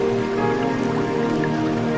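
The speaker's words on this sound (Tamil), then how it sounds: "நகரங்களில் மழை பெய்கிறது" Steady rain falling over a city, a dense, even hiss of drops pattering on surfaces with occasional drips, continuous and fairly loud without any voices.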